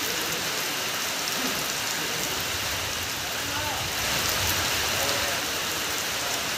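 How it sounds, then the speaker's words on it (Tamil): Heavy summer rain pours with strong gusting wind, a dense, constant hiss of drops on surfaces that fills the whole stretch and swells slightly toward the end. "சுமார் ஒரு மணி நேரம் சூறைக்காற்றுடன் கனமழை பெய்தது"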